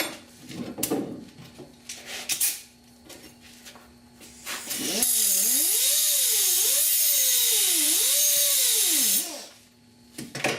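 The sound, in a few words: grinding down a steel patch panel on a car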